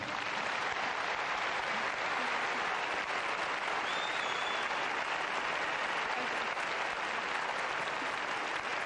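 A crowd at a Holiday on Ice skating show applauds continuously, a dense, even wash of clapping heard from a slight distance, with no talk over it.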